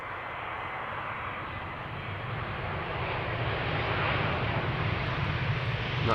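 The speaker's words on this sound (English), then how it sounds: "Vueling flight 8300 up next, arriving from Barcelona. This is another A320." A Vueling Airbus A320 arriving from Barcelona at Amsterdam Schiphol, a steady broad jet roar that swells slightly as it nears, heard from a distance with no voices.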